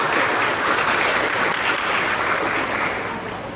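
An indoor audience at a Muhammadiyah school gathering for departing Class XII students claps in a dense, sustained burst of applause that fades slightly toward the end.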